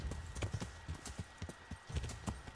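A horse's hooves clip-clop in a quick, rhythmic patter of sharp knocks, fairly faint and close, alone without talk.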